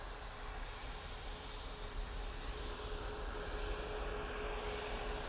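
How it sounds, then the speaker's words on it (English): Ryanair Boeing 737 MAX 8 departing Manchester Airport for Milan, its engine noise a faint, distant, steady roar that swells slightly toward the end, with no voices. "Next out. This is 737 MAX 8."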